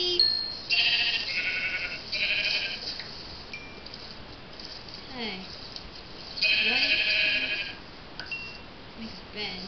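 Sheep bleating in a Minecraft-style video game, several short repeated bleats at moderate volume with someone speaking briefly between them.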